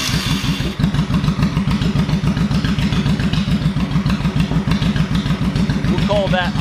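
A motorcycle with a faulty regulator/rectifier held at high revs, a loud, close, steady engine roar with a fast even pulse throughout and no letup.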